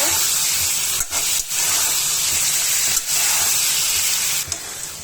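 Radish pieces go into a spice paste frying in a pan for a puti fish curry, giving a loud, steady sizzle and hiss with a few brief dips as the pieces are stirred in.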